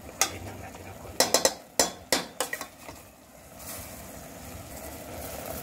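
Vegetables with Lea & Perrins cooking in a pan, sharp metallic clanks of a utensil against the pan in quick clusters over a low frying hiss, then quieter sizzling.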